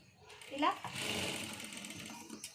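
A sewing machine stitches a folded-back part of a garment, its steady mechanical whirring running for about two seconds after a brief start, close and clear, with speech in the background.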